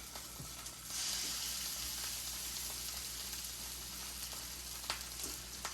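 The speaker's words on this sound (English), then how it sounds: "You'll hear the sizzle as soon as you set them down." Salmon fillets sizzle steadily in a hot pan, a continuous crackling hiss at moderate level with occasional small pops, no voices.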